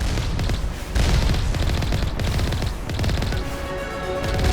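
Geth turrets keep up loud, sustained automatic fire in the video game Mass Effect, with dense overlapping bursts and booming impacts that continue without a break.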